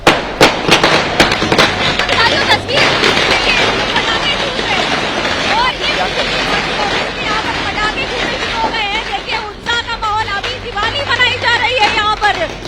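Firecrackers burst outside a BJP party office during Lok Sabha election exit-poll celebrations, a rapid string of sharp crackling pops over several seconds as crowd chatter and voices carry on underneath.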